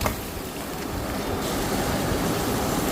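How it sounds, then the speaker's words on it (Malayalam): Marinated chicken pieces sautéing with onion and curry leaves in a pan: a continuous broad hiss and crackle of frying, steady and close, with no voices. "ജസ്റ്റ് ഒന്ന് വഴന്ന് വരുമ്പോൾ നമുക്കതിലേക്ക് മാരിനേറ്റ് ചെയ്ത് വെച്ചിരിക്കുന്ന ചിക്കൻ പീസസ് ചേർത്ത് കൊടുക്കാം"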